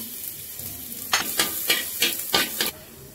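Chopped ginger fries in hot oil for a biryani, a steady sizzle with a run of sharp bursts of spatter and stirring, each flare rising and fading, close and fairly loud with no talk.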